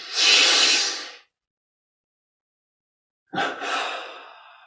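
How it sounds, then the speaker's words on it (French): Two separate breath sounds during a guided relaxation breathing exercise: a loud, airy rush lasting about a second, a pause of silence, then a second sharp intake that fades out gradually. No talking. "Puis on prend une double inspire."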